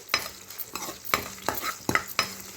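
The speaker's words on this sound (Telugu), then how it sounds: "ఇలా వేయించేసుకోవాలి." Ridge gourd curry being stirred and fried in a pan, with repeated sharp scraping strokes of a spatula over a soft sizzle, about five strokes in quick rhythm, close and moderately loud.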